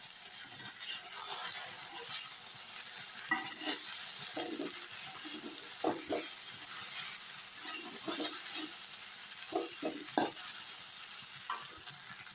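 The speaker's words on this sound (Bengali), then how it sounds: "মাঝে মাঝে ঢাকনা উঠিয়ে নাড়াচাড়া দিতে হবে।" Okra coated in spices fries in a pan that has its lid lifted now and then, with a constant close hiss of frying broken by frequent scraping and clicking stirring strokes.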